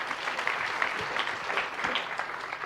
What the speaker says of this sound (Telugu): అది గట్టిగా చప్పట్లు కొట్టండి.